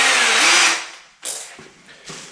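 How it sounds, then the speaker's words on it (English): A 4mm power drill bores into wood, starting with a long, loud whirring run, followed by two shorter, quieter bursts of drilling close by. "So all I'm going to do is just drill a couple of little holes here."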